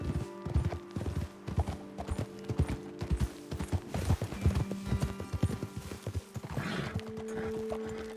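Horses walking in the Red Dead Redemption 2 video game, hooves clip-clopping in a steady, close rhythm throughout, with faint creaks of tack and a brief whinny near the end.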